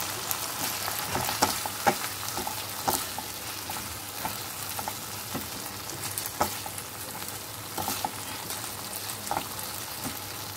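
Cubed onions fry in a pan for okra dopiaza, a constant close sizzle broken by irregular clinks and scrapes of a stirring utensil, with no talking.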